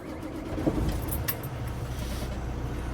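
A CDL truck with automatic transmission starts up from inside the cab, a brief starter whir giving way to a steady low engine idle, close and fairly loud with a few faint clicks on top.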